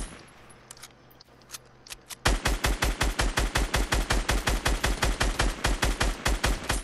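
Gunfire in the video game Fortnite Battle Royale: a few scattered shots, then a loud, steady rapid string of evenly spaced shots running for several seconds, close and prominent with no talking.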